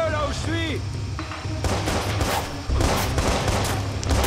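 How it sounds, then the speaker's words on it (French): Rapid bursts of game gunfire crackle repeatedly, loud and close, with a voice briefly heard at the start, in Watch Dogs. "Il y a des coups de feu là où je suis."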